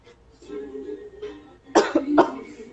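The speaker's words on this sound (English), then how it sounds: "And I'm coughing like heck." A person coughs several times, harsh bursts close to the microphone, with quieter throat sounds before them and no words spoken.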